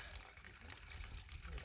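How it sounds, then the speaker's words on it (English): Water is squeezed through a hiking water filter on the Appalachian Trail, producing a steady close hiss and trickle of flowing water that runs continuously without pause. "Through the blue, comes out clean spring water on the end."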